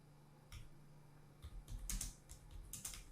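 Keyboard typing while writing a comment: a few scattered bursts of clicking keystrokes, quiet and close, with gaps between clusters and no talk.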